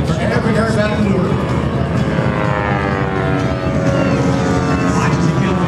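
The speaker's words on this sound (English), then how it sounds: "He'll quickly flip the aircraft all the way around and out." An aerobatic airplane maneuvers at a Charleston, West Virginia air show, its engine droning steadily and sweeping in pitch as it loops overhead, while an announcer talks over the noise.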